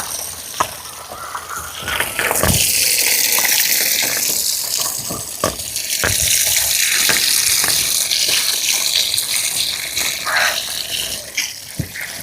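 Water gushes and splashes steadily while chicken feet are washed outdoors. Crows caw now and then in the background.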